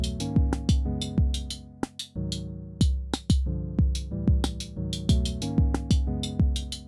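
A clean electronic drum pattern on an Elektron Model:Cycles synthesizer, with punchy kicks and bright, crisp hits repeating in a steady, looping rhythm, loud and up close with no talking.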